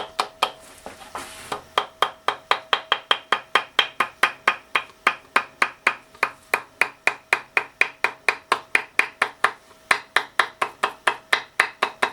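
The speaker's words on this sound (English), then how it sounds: "by tapping lightly with a hammer." A hammer tapping lightly and steadily on metal, dozens of even, ringing taps in a quick regular rhythm, close by and with no talking.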